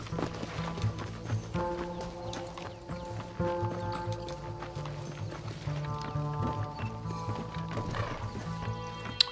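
Horses in the Red Dead Redemption video game gallop with a steady, rhythmic clip-clop of hooves running throughout, with a whinny or two and a little game speech mixed in.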